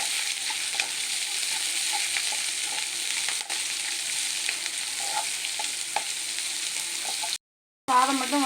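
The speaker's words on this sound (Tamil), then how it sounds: "ஒரு பெரிய சைஸ் வெங்காயம் மெலிசாக கட் பண்ணி வச்சுட்டு அதையும் சேர்த்துக்கலாம். இதை நல்லா வதக்கிக்கலாம்." A large thinly sliced onion sautéing in a pan for capsicum rice, giving a steady bright sizzle with faint periodic stirring taps, then a short silent gap before the frying resumes.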